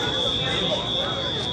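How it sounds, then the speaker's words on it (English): An airport baggage claim alarm, a steady high electronic buzz held without a break over a busy hall background, close and loud. "Alarm, shut the frick up."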